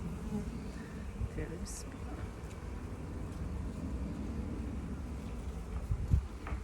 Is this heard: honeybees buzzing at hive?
yes